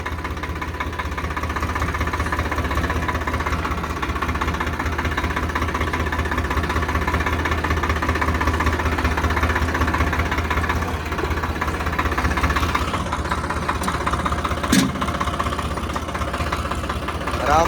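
Swaraj 735 XT 4WD tractor rolling slowly at idle with no throttle, its diesel engine giving a steady, close, even knocking drone without letup and a brief sharp click near the end.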